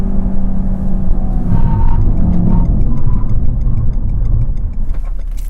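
A Renault Megane RS slows hard in a braking test, a loud engine and road roar falling away with faint tyre and ticking noises over the final seconds.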